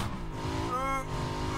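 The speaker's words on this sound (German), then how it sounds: "Vollgas" A car in PUBG driven at full throttle, engine droning steadily and rising in pitch as it revs, close and continuous.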